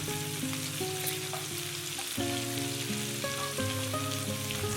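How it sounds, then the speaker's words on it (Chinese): Large prawns sizzle in a hot pan while being fried on their second side, a soft, steady crackle with faint clinks, heard alone at low level. "继续煎另外一面，直到煎到大虾两面都变红了"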